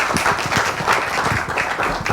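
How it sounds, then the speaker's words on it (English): An audience claps in a steady round of applause, many hands patting together at close range with a busy, uneven rhythm throughout. "big round of applause for them."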